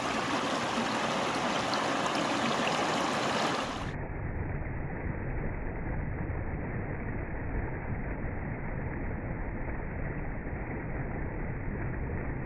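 Water cascades steadily along a wooded hiking trail, a continuous, even rushing and splashing close by with no pauses.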